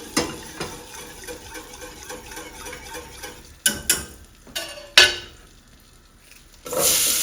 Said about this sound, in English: We can get the mirepoix in now.